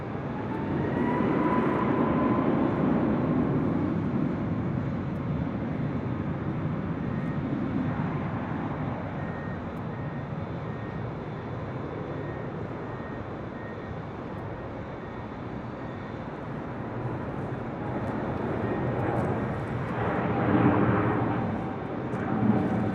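A Southwest airliner taking off from runway 24 Left at LAX, heard from high above the airport: a broad, steady jet roar that swells, eases off in the middle and builds again, with no voices.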